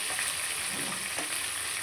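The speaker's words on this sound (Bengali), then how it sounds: "এদিকে আমি তরকারির মাছটা ভাজা করতে বসিয়ে দিয়েছি।" Steady crackling sizzle of fish frying in hot oil in a pan, close and continuous, with no voices.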